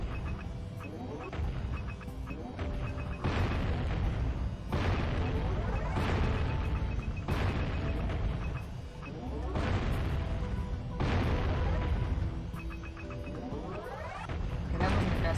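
Cannon fire in the video game Jak and Daxter: The Precursor Legacy, with repeated loud booming blasts at an irregular pace over a dense, busy game soundscape.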